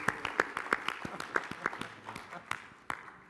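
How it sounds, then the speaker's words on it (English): Sparse audience clapping at a live artificial intelligence game show, a handful of distinct claps in a loose rhythm, quiet and somewhat distant, tapering off. "Round of applause,"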